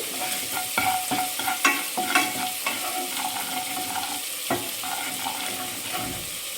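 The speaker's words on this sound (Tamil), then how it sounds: "போட்டுட்டு நல்லா ஒரு தடவை கலந்து விட்டுக்கோங்க சிம்மில் வச்சு" Chicken biryani masala with salt stirred in a pan over a low flame: a soft continuous sizzle broken by irregular clinks and scrapes of a spoon against the vessel.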